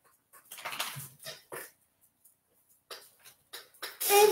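A dog that seems unwell whimpers and pants in short, breathy bursts separated by pauses, close by, ending in a louder burst.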